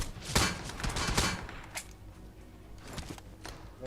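Several sharp gunshot bursts in a shooting video game fire rapidly in the first second and a half, then scattered single shots follow more faintly against a busy game background.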